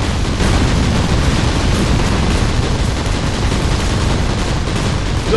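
Dense, continuous rifle volley gunfire from massed troops in the Rise of the Reds strategy game, a loud unbroken roar of overlapping shots with no pauses.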